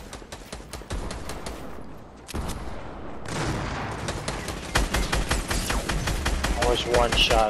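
Rapid bursts of automatic gunfire and a heavy boom fill a Fortnite match, shots crackling in dense volleys near and far while players talk excitedly over the combat.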